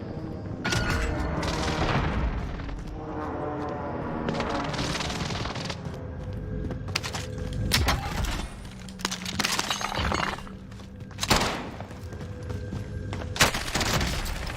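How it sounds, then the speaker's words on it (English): Precision airstrike explosions in the Warzone video game boom and shatter in several heavy, separated blasts with crackling debris, loud and close, with brief quieter gaps between impacts. "Allied precision airstrike incoming."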